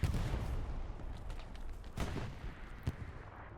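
Bombing-run explosions in a HCA Winter 2025 match between BAIN and Condor Legion, heard as a dense continuous rumble of blasts and gunfire with a few sharper booms standing out, loud and sustained with no talk.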